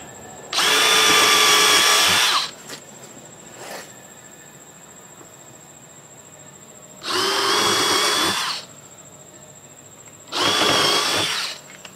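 A power drill whines loudly in three bursts of about two seconds each while punching small holes through a plastic golf cart seat, with quiet pauses in between.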